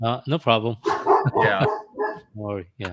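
A dog barks and yips in short bursts, mixed in with close conversation between two men.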